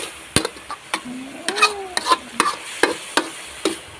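Tilapia fish frying in a pan, with steady hot-oil sizzle broken by repeated sharp stirring scrapes and clacks of a utensil against the pan, close and fairly loud, with no talking.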